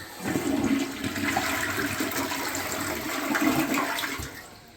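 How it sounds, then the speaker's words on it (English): A newly installed toilet flushes with a loud, steady rush of water that swells and holds for several seconds before tapering off, close by with no talking. "Keep this toilet flushing."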